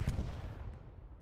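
Explosions and artillery fire during a Hell Let Loose match, heard as a loud opening blast followed by a rolling rumble and a fainter crack just before the end.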